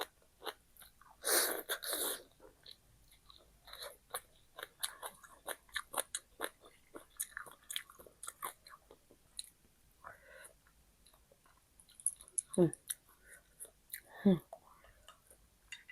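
Crunchy chewing of a spicy Thai sea lotus salad, a quiet series of crisp bites and mastication sounds close to the mic, with a couple of sharper crunches near the end and no talk.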